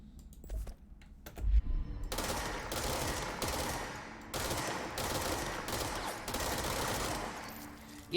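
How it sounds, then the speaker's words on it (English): A video game machine gun fires several loud, rapid bursts, each a rattling spray of shots separated by brief pauses, after a few quieter thumps at the start. "It's a machine gun."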